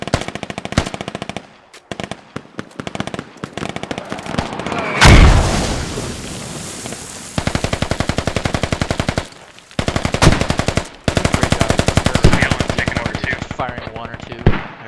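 Loud, sustained automatic rifle bursts rattle almost continuously in a Squad multiplayer battle, broken by short gaps, with a heavy mortar-like boom partway through and further gunfire after.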